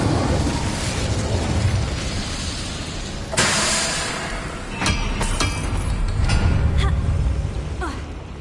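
Incendio fire spell cast in Hogwarts Legacy, a whooshing burst of flame over a dense, rumbling game soundscape, followed by several sharper pops and crackles.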